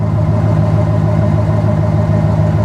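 A used truck's engine idles close by in a salvage auction lot, a steady, even low purr with no voices.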